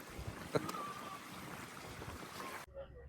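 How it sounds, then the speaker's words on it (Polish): A boat out on open water near Orange Bay island, giving a steady wash of engine and water noise that holds throughout before cutting off abruptly near the end. "No my jesteśmy już z powrotem na łódce."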